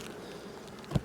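Honey bees buzz at the hives as a soft, steady drone close by, with one short, louder bump near the end; no one speaks.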